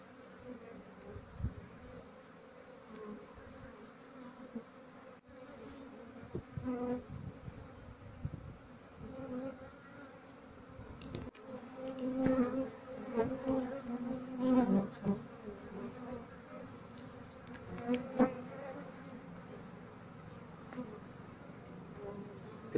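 A dense swarm of Asian honey bees (Apis cerana) moving into a hive box buzzes steadily, a constant droning hum that swells louder midway, with faint scattered knocks.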